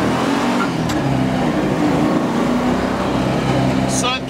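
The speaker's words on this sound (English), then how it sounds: "We're going to give it a little gas here." 1967 Ford Mustang classic car accelerating on a test drive, a loud steady engine drone and rumbling road noise heard from inside the car, with people talking over it and a brief squeal near the end.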